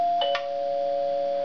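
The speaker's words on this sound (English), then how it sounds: "Was that the doorbell?" A doorbell chimes twice in quick succession indoors during a comedy show scene, two clear bright tones over a steady background hum, with no talking.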